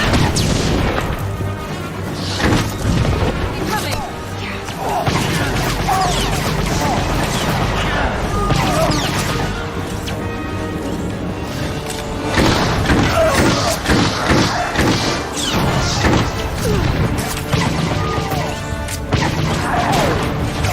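Blaster fire and heavy crashes during a battle in the Star Wars: The Old Republic video game, dense thuds, bangs and impacts layered over an orchestral score and shouted voices throughout.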